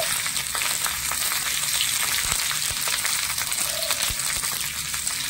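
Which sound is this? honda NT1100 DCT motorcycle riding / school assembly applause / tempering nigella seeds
tempering nigella seeds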